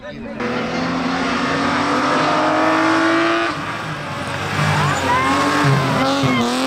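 A race car speeds up the Peñas Blancas hill climb near Estepona. The engine roars loudly and close throughout, rising and falling in pitch through the gear changes, with brief tire noise near the end.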